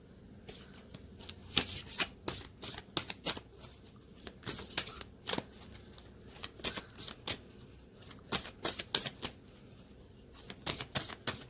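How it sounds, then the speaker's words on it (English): Tarot cards being shuffled and scattered, with repeated crisp riffling bursts and slaps of card stock in irregular clusters, close and fairly loud over a quiet room. "Cards going everywhere."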